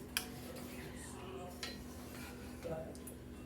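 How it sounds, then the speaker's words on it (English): Raspberries are stirred in a pot on the stove, with a few soft clinks of a utensil against the pot and faint scraping over a low steady hum, quiet and sparse. "I'm just going to give them a quick little stir around so it'll have room to breathe"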